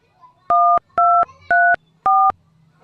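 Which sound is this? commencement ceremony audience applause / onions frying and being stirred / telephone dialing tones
telephone dialing tones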